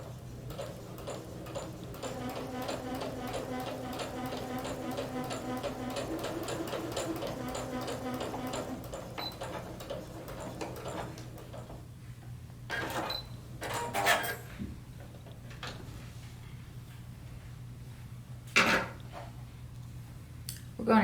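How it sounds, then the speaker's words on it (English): Sewing machine stitching the corner of a collar on a McCalls 6696 shirt, a fast steady rhythmic ticking for several seconds, then stopping for pivots, with scattered handling clicks and taps afterward. "So I'm going to pivot 45 degrees, sew 2 stitches, pivot the remaining 90 degrees,"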